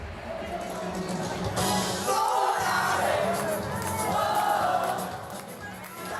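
Young performers backstage before a stadium concert, chanting and singing songs together with clapping and shouts, a lively, boisterous group sound with voices overlapping throughout.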